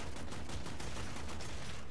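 In the Warframe space-ninja shooter, a rapid burst of gunfire rattles in dense, evenly spaced shots that run loud and unbroken through the moment, with no talking.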